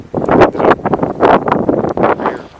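Gusty wind buffets the microphone outdoors in a Pennsylvania field at sundown, coming in loud rushing bursts that swell and fade several times with no voices.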